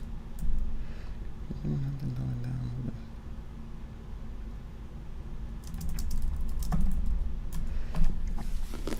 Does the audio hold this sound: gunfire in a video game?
no